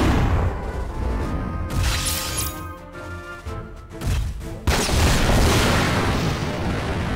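Bazooka fire and explosions from the PS2 game Front Mission 4 rumble in a dense, loud stream of booming blasts and crashes, with a short lull before another heavy burst.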